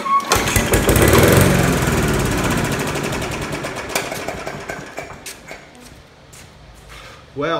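A Murray lawnmower that had been left outside cranks, catches and chugs loudly up close. It then gradually winds down and fades toward the end.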